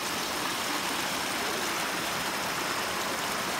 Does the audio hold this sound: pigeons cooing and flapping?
no